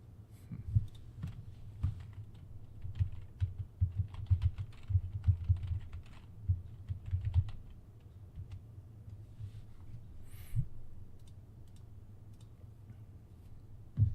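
Quiet typing on a computer keyboard in an irregular run of soft key clicks, some bursts quicker than others, with a low background hum and no speech.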